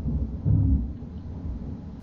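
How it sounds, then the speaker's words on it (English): A low, rumbling roll of thunder swells and fades over about two seconds, deep and muffled, with no speech. "It's thunder."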